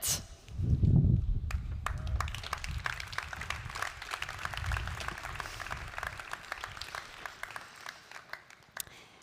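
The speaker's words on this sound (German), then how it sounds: "Einen großen Applaus an Magdalena, Sophia, Lea und Nives von La Chanson Quartett." An audience at an autonomy day ceremony applauds a female vocal quartet, with a low rumble and shuffling at first, then scattered, moderately quiet clapping that continues and tapers off.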